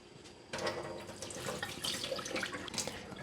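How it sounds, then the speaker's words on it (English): Fresh tap water runs steadily into a pot of soaked, drained beans in a home kitchen, a continuous close splashing and gurgling that starts abruptly and carries on unbroken. "We're gonna drain it, put some fresh water in it."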